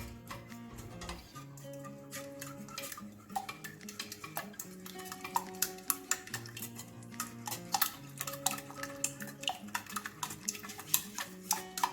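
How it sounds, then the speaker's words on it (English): Eggs and sugar being beaten in a bowl, with a steady run of quick, sharp whisk or fork clicks against the bowl and a soft stirring swish, close and fairly loud, with no talk. "So we'll beat up our eggs."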